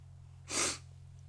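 A voice imitates a sneeze, heard once as a single short breathy burst near the mic over a low steady hum.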